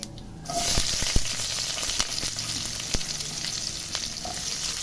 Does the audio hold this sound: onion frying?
yes